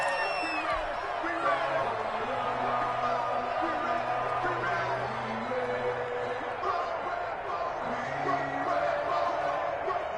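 Stadium crowd at a football game cheering and applauding after the defense forces a fourth down, a steady dense roar with scattered whoops and shouts that holds loud for the whole stretch.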